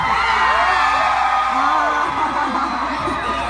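A concert crowd at a country band's fiddle show screams and cheers without a break, a dense, steady roar of whoops and yells filling the whole stretch, with voices mixed in.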